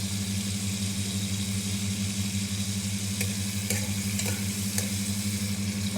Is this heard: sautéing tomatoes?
yes